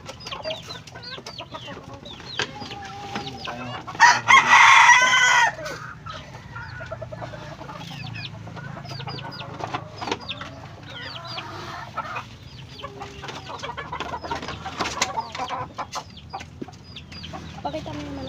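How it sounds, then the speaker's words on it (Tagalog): Chickens clucking steadily nearby with a rooster crowing loudly partway through, over a busy outdoor background. "Pakita mo yung manok."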